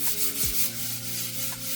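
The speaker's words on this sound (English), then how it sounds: "All right, consider it sanded." A wooden desk top being sanded by hand, a short stretch of steady rhythmic rubbing strokes, close and fairly loud with no talk.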